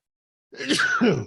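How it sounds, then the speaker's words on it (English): A single sharp sneeze, close and loud, breaking out after a moment of silence. "I'm going to sneeze in a second."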